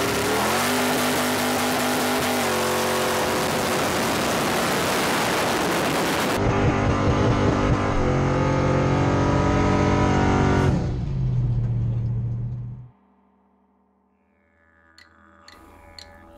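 Ford XC muscle car with a 900 hp nitro engine revving loudly and continuously, rising through the gears before cutting off abruptly to near silence with faint noise trailing.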